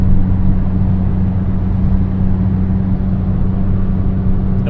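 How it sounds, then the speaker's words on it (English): A turbocharged van engine climbs a grade as it builds boost, a steady loud drone with a constant low hum and no shifts, heard from inside the cab with no one talking. "Watch the turbo go to work."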